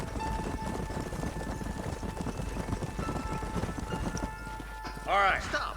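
Horse hooves in the video game Red Dead Redemption clip-clop in a steady, rapid rhythm at close range, with talk over the riding and a brief whinny-like cry near the end.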